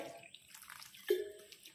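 Water is poured into mango and coconut dough while mixing for boppatlu, giving a soft brief splash and light drips, fairly close and quiet with no talking.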